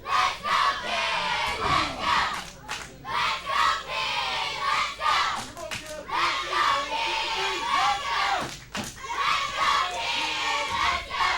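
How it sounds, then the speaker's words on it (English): A wrestling crowd cheering for Kid Nikels fills the space with loud, sustained chanting and shouting that swells and dips in rhythmic waves, briefly dropping out twice. "I'm listening to the crowd out here, and it is overwhelmingly supporting Kid Nikels"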